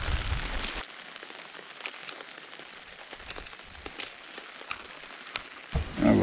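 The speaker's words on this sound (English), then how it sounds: "raining for hours" Heavy rain falls at a riverside camp on the Partridge River, a steady close patter and crackle of drops that swells louder at the start and again at the end.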